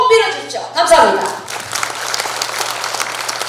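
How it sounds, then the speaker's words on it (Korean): Audience applause at a Democratic Party delegates' convention in Jungnang, starting just after a speaker's amplified voice and continuing as a steady dense clapping wash in a large hall. "다시 한번 우리 전혜숙 국회의원께 큰 박수 부탁드리겠습니다"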